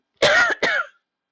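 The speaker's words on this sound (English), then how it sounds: "I don't know why I'm coughing" Two close, loud coughs from a person, the second cutting in right after a brief gap, with a rough throat-clearing quality and nothing else around them.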